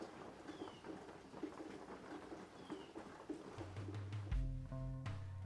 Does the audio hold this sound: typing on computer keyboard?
no